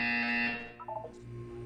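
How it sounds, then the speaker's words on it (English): Buzzer in the video game Portal 2, a loud harsh electronic drone lasting about half a second and then cutting off, followed by faint electronic blips and quiet hum. "You will hear a buzzer."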